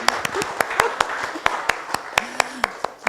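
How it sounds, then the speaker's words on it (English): Scattered claps from a small live chat audience, sharp separate hand strikes at an uneven rhythm over a low murmur of room noise and faint voices. "Big round of applause for him."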